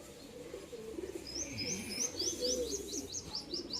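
Malbai pigeons coo in low, throaty bursts, while a quick series of high chirps runs overhead at close range, with no talking.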